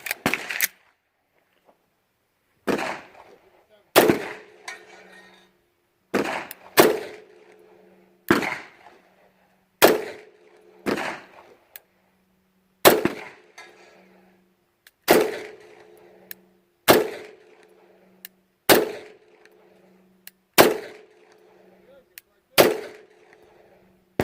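Beretta 92FS and 92 Vertec pistols fire about a dozen sharp, loud single shots at irregular intervals, each followed by a short ringing decay over quiet background.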